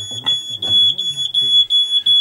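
A kitchen smoke alarm gives short high-pitched beeps repeated in a quick irregular series, loud and close, while someone talks over them.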